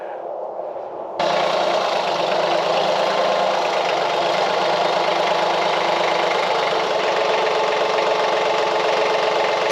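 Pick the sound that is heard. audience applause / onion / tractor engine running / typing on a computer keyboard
tractor engine running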